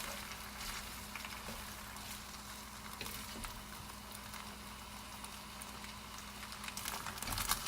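Drunken noodles fry in a hot pan with a steady, dense sizzle and scattered small pops. The sound is close and continuous, with no voices.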